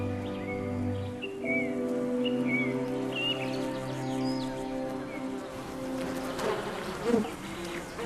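Insects hum and buzz steadily through summer woodland, a dense drone of bees, wasps and flies close by, with occasional bird calls in the background.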